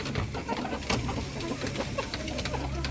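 Chickens cluck in a coop, several birds giving short, close clucks and calls over a low steady background hum.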